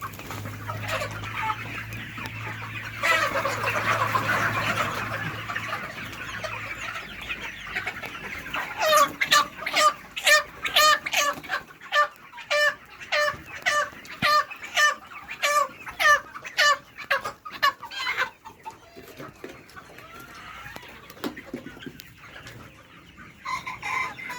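Sonali chickens about fifty days old cluck and squawk loudly in rapid repeated bursts while being weighed one by one, agitated calls near the microphone with no talk over them.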